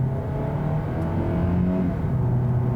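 A 2022 Hyundai Elantra Hybrid accelerates hard in sport mode with traction control off, its engine droning in a steady, rising whir heard from inside the car, with no talk.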